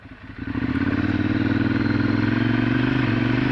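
Ducati motorcycle engine revving up and holding a steady, loud, close drone while riding, with a slight rising pitch and no talk over it.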